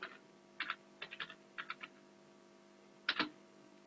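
A computer keyboard is typed on in short bursts of crisp keystrokes, quiet and close, with pauses between groups, entering a DISM command on Windows Server 2019.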